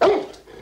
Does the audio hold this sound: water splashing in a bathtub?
no